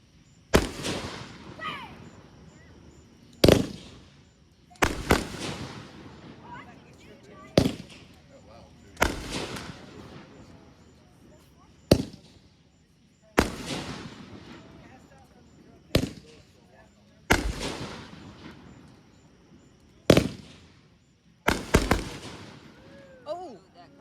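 Fireworks bang in a series of about nine sharp, loud blasts at irregular intervals, each trailing off in crackle and echo, with voices talking faintly between bursts.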